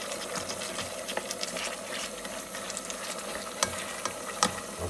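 Veal escalopes with mushrooms and shallots simmer gently in cream in a pan, giving a steady soft bubbling hiss with a few scattered clicks and pops, and no voices.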